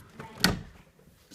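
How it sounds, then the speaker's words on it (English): A door pulled shut by a homemade door closer, giving a short soft thud and latch click, then a second sharp knock at the end, fairly quiet in a room with background noise. "Homemade door closer."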